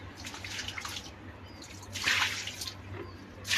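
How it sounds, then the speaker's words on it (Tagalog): Water is poured into a container, giving a couple of faint splashing, trickling bursts separated by a quiet gap, with a low steady hum underneath. "lagyan natin ng tubig"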